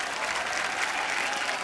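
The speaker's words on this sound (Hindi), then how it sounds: "उसके लिए पहले तो जोरदार तालियां।" Loud, steady applause from a studio audience at a TV comedy show, dense continuous clapping with no pause.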